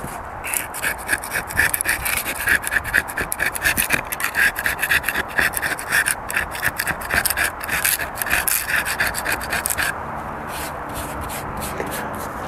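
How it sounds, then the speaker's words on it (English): Rough, rhythmic scraping and rasping strokes as old silicone caulking is worked off a boat deck, steady and close for about ten seconds, then easing into quieter scraping. "seems to be a technique we'll have to use to get all of this old silicone caulking off."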